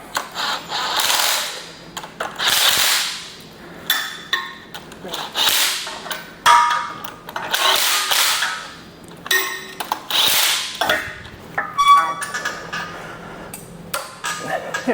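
A power tool whirs in repeated loud bursts with pauses between, alongside metallic clanks and rattles of VW engine parts close by during a 2332cc engine build.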